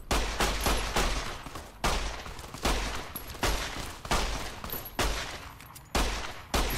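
Gunfire in a Bethesda wasteland video game, with loud, dense bursts of repeated shots in rapid volleys, close and continuous, with brief gaps between clusters.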